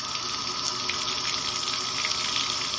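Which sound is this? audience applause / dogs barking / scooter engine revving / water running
water running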